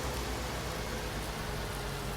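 Steady rain hisses evenly and softly throughout a short stretch in the farming video game Farming Simulator 19, a faint uniform patter with no other sounds.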